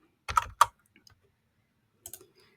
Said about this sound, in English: let me just type in bot